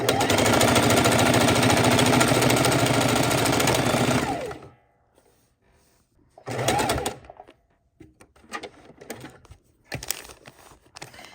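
A sewing machine runs steadily for about four seconds while stitching raw edge appliqué, stops short, then makes a few brief, rougher bursts of stitching separated by quiet pauses.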